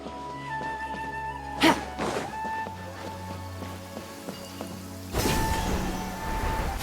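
Steady rain falls in a Genshin Impact game scene, a soft continuous patter with a couple of brief louder thumps and a swell toward the end, with background game music.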